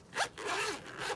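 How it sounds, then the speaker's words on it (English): A Filofax Saffiano Personal Compact zip organizer is unzipped up close, giving a quick bright ratcheting zip in two or three short pulls over about a second. "We're gonna unzip."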